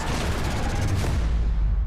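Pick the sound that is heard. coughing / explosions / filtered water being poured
explosions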